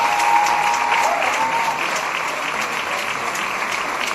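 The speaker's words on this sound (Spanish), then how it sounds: "persona que es Ismael Bejar, así que un aplauso para él, por favor" Loud, sustained applause from the audience at a live charity concert, a dense even wash of clapping close and full throughout, with no voices over it.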